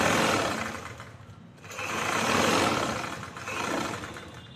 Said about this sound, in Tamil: சேர்த்து வச்சு கேன்வாஸ் ஓரத்தில் தையல் போடுறோம்.